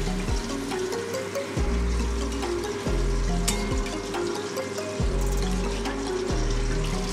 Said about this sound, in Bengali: টমেটোটা ভালো করে ভাজা হয়ে গেছে, দিয়ে দেবো উপর থেকে জল